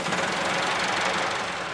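A tractor engine on a transfer ride across Tresco in the Isles of Scilly makes a loud, close, continuous rattling knock with no pauses.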